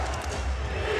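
Crowd in a basketball arena during an NBA game between the Orlando Magic and the Portland Trail Blazers, producing a dense, sustained roar of cheering with a commentator's voice underneath.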